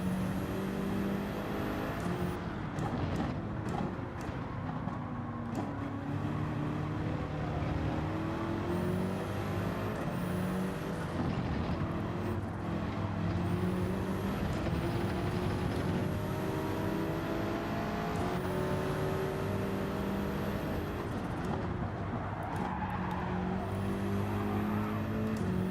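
In Gran Turismo 7, a BMW race car runs in a pack of other cars. The engines drone and rev steadily and loudly, with shifts and whines rising and falling through the race, while a commentator talks over the top.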